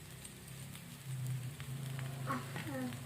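Coriander vada (kotambari vada) frying in hot oil, a steady close sizzle running throughout, growing slightly louder partway through, with faint voice-like sounds now and then.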